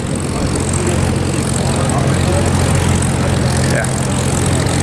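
A P-51 Mustang propeller airplane taxiing in after a flight, its piston engine droning loud and steady at close range, continuous and unbroken throughout.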